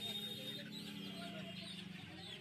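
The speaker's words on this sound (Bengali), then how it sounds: "তো এখানে দেখো অনেক মুরগি আছে, সবাই মুরগি কিনছিল।" Chickens cluck steadily among crowds of poultry at the Uluberia village market, a dense, continuous hum of birds close by with market bustle around them.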